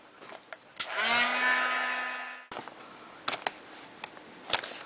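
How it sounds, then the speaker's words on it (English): A heat tool dries mail art craft work, a loud close whirring blast lasting under two seconds, followed by soft clicks and handling noises on the table. "And I'll heat dry that quickly."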